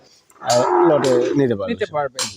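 Fleckvieh and Brahman bull calves at a cattle farm lowing loudly and close, one long moo followed by shorter broken calls.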